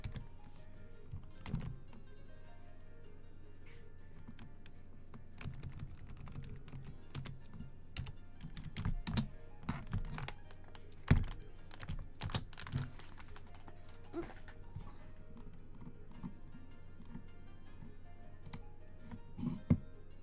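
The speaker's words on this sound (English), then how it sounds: "I have to bring my keyboard back over here." Typing on a computer keyboard, with irregular bursts of soft clicking keystrokes over about twenty seconds, fairly faint and close, with occasional louder key taps.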